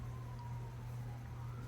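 An ambulance siren sounds faintly from a distance, a thin steady tone held above a loud, constant low rumble of traffic or engine noise.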